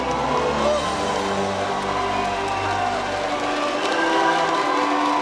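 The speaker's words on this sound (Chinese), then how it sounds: "新北市长朱立伦一走出来，全部人起立鼓掌" A packed stadium crowd at a mayoral campaign rally in New Taipei keeps up dense, continuous applause mixed with cheering and murmur, giving a broad, steady roar throughout that sounds sustained and fairly close.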